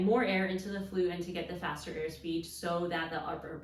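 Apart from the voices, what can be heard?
No everyday noises stand out.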